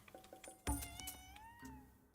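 In Ghostwire: Tokyo, a cat lets out a couple of drawn-out, wavering meows close by, with a soft thump near the start and no voices.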